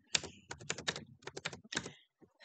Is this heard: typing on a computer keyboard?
yes